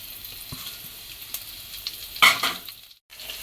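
Garam masala hits hot oil for a mutton kulambu tempering, giving a soft steady sizzle that flares into a louder hiss about two thirds through, then drops to near silence before resuming.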